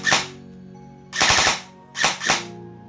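An EC 901 DMR airsoft rifle with an upgraded stiff spring and reworked gears fires three loud, sharp, close shots with short pauses between them, and no one speaks.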